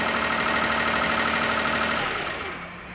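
A cogeneration gas engine idling just after startup, a steady close mechanical hum with a low tonal drone that holds evenly, then fades and drops away toward the end.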